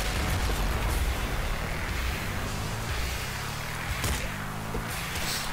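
Sustained booming rumble of a bazooka explosion in the Shivers video game, loud and continuous with dense roaring noise and a few sharper bursts near the end.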